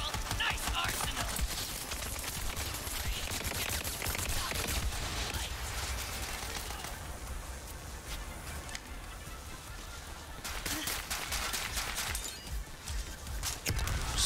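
Rapid bursts of gunfire in the looter shooter Borderlands 3, dense and continuous crackling shots with debris-like clatter, loud throughout with brief dips.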